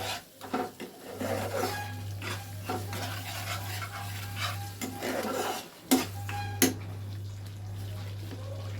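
An egg and paneer mixture is stirred in a pan, with repeated scraping and rubbing of a spoon against the pan over a steady low hum, broken by brief pauses and a couple of sharper knocks.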